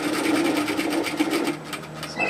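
A sewing machine running steadily as it topstitches bib overalls, a close, continuous mechanical whir with rapid rhythmic needle strokes that eases slightly near the end.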